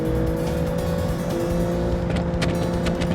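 A simulated car engine, built as a LEGO-style car in the Automation game, drones loudly and steadily under full throttle down a straight, with a constant, unbroken tone.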